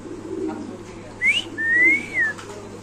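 A pigeon at a market stall of breeding pigeons gives a few short, rising and falling whistle-like calls, close and fairly clear over a low background murmur.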